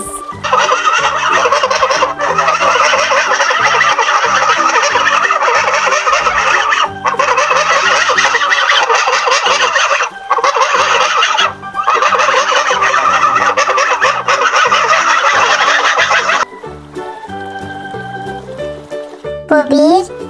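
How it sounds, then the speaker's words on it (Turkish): A goose on a farm honks in loud, repeated, dense calls that run for most of the stretch, then quieter sounds follow near the end. "Bu bir kaz."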